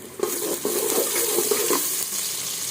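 Onions frying in a pan while pulao is being cooked, a steady close sizzle with stirring scrapes across the short stretch and no talk.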